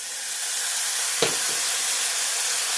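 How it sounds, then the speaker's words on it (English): Almonds sizzling in a hot pan, a steady loud frying hiss throughout with one brief clink of a utensil partway through. "Cook up those almonds."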